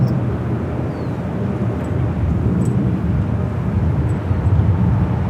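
A jet airliner bound for Tokyo Narita rolls for takeoff on runway 24 left at LAX, a loud, broad, steady engine roar that swells slightly and sounds distant to moderately near, with no voices.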